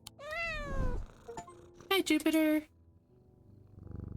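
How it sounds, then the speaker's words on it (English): A cat purrs up close in a continuous low rumble, with some high drawn-out meow-like sweeps at the start, while a person briefly speaks a short greeting over it. "he rubs my chin with the back of his head, purring in delight."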